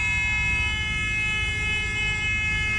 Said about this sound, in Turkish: Bütün araçlar korna basıyorlar.